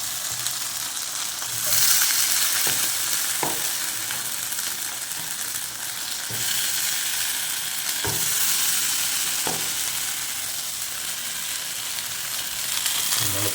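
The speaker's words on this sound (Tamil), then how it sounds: "ஸோ இப்போ மீனை பொரிச்சுக்கலாம்" Fish fries in a pan for a village-style Tamil fish curry, a loud, dense, constant sizzle with a few soft knocks of a utensil, and no talking.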